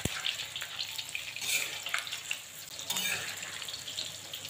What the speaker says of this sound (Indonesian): Goreng dulu tahu secukupnya aja seperti ini.